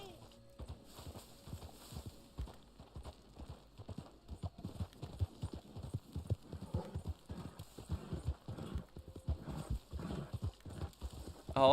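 Horse galloping in Red Dead Online, steady rapid clip-clop hoofbeats running throughout at moderate volume, mixed with game ambience and a person talking over it.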